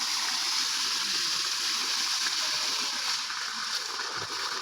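Water poured onto trees, a steady close splashing and rushing that stays even throughout, with no talk over it.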